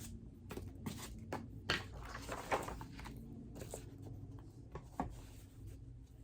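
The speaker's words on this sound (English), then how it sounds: "Let me go over this again with a different color pencil." A colored pencil scratches across paper tracing an outline, a quiet series of short, uneven strokes with faint rubbing between them in a hushed room.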